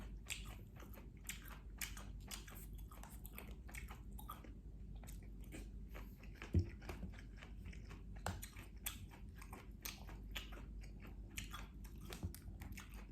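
Someone chews and bites into 7-Eleven rice with cheesy corn, giving soft, steady, close-up crunching and squishing mouth sounds that repeat throughout with no talking.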